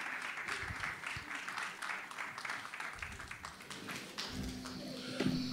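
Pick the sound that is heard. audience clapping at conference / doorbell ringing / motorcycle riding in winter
audience clapping at conference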